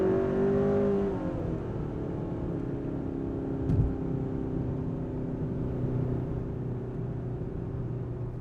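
A 2021 Kia K5 GT accelerates hard down a straightaway in Sport Plus mode, a continuous rising engine drone and road rumble heard steadily from inside the cabin, with a brief thump partway through.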